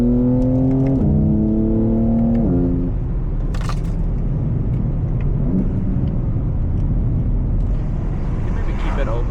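A 2025 BMW G80 M3 with a straight pipe exhaust and the valve open, a loud revving note rising in steps before settling into a deep steady rumble as the car moves off.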